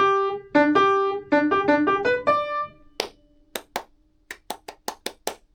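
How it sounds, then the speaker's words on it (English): Hands clap back a rhythm in an aural exam, about nine sharp, close claps in an uneven pattern, heard after a short sustained melodic phrase played on an instrument. "you've got to clap back for the first time in the aural grades, the rhythm, not the pulse, the rhythm"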